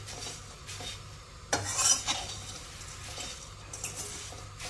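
Puffed rice (mamra) being stirred and roasted in a pan, with a utensil scraping and clinking steadily against the metal, a louder burst of rattling midway, and a faint sizzle underneath.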